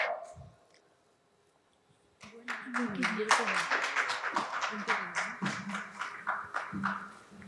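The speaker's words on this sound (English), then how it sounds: "Please give a round of applause and welcome him on stage." After a brief near-silence, a conference audience at a supply-chain industry event in the Middle East breaks into steady, dense applause that holds to the end, with a voice faintly audible underneath.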